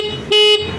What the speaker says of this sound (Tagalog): malakas po yung kanyang busina